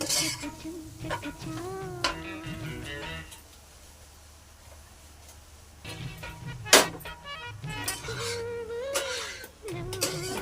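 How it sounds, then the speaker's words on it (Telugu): Liver fry is stirred in a pan, with a spoon scraping and tapping against the metal in short bursts and a soft sizzle beneath, while a voice is heard faintly in the background. "మధ్యలో ఇలా తిప్పుకుంటూ"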